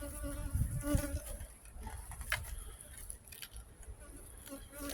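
A dense, steady buzzing of many honeybees in front of a hive fills the air close by, with individual bees droning past, and a voice occasionally speaking beneath it.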